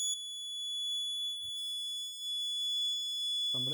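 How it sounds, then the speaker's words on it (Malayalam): Homemade laser security alarm buzzer giving a steady, shrill electronic tone that holds throughout, with a couple of faint soft knocks in the background. "ഈ ലേസർ എവിടെ വെച്ച് ബ്രേക്ക് ആയാലും നമ്മുടെ ഈ അലാറം അടിക്കും"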